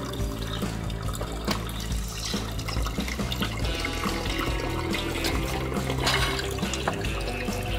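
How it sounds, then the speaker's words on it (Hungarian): Excess water trickles and pours out of the drip tray of a homemade briquette press, a steady wet splashing that stays fairly loud and continuous throughout, with no talking. "felesleges víz, az kifolyik."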